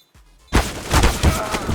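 AK rifle gunfire in Counter-Strike on the Inferno map during an esports match: after a quiet start, a loud burst of sharp shots and thuds fills the rest of the moment, with several distinct impacts close together.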